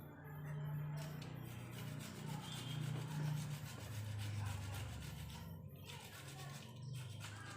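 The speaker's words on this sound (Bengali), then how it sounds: "এখন এই টমেটোগুলো ঘষে নেব।" Tomatoes rubbed against a kitchen grater in a steady back-and-forth rasping that runs without pause, close and fairly loud over a low background hum, with no one speaking.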